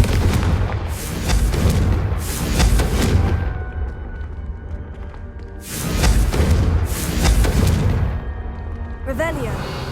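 Confringo fire-blast spells in the Hogwarts Legacy video game go off as four heavy, rumbling booms in two pairs. Each blast swells and decays over about a second, with a voice talking in between.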